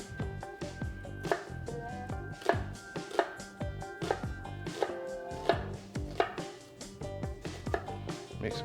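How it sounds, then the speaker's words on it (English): A kitchen knife chopping an onion on a cutting board, a brisk series of about a dozen crisp, close chops in a steady rhythm, clear and alone. "We want to start by cutting the onion in half"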